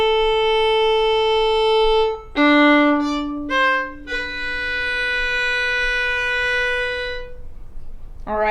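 A solo violin plays the opening of a song section, starting on a G: a few long, sustained bowed notes broken by quick scale-like runs, close and clear, ending with a brief new note.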